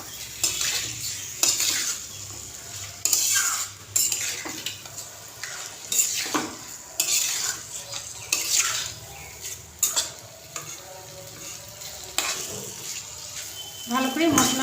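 Pieces of katla fish are stirred through spice masala in a pan, making repeated scraping and clinking strokes of a spoon against metal over a soft, continuous sizzle, heard close and alone.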